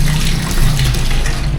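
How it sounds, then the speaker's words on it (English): A hotel shower sprays water in a loud, steady, close-up rush with no pauses or voices. "there is also a shower"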